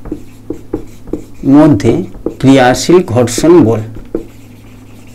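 Physics notes go down on a board or page as short scratchy pen strokes in quick bursts, up close, with a teacher's voice talking over much of it.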